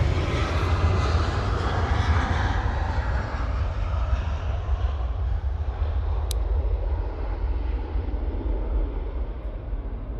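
An Air Dolomiti airliner bound for Venice at Munich airport produces a loud, broad jet-engine roar that slowly fades as it moves away, steady and distant-to-mid range with no voices.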